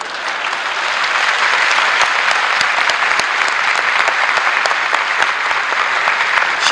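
A large audience at a 1989 political speech breaks into sustained applause, a dense, loud wash of many hands clapping that swells within the first second and holds steady throughout.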